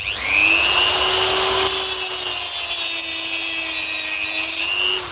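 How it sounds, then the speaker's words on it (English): A Dremel rotary tool fitted with a genuine Dremel cutting blade cuts steadily. It gives a loud, high-pitched whine that rises as it spins up and holds for several seconds before easing off, with no talk. "Get the Dremel out. These new Dremel blades, these are genuine Dremel."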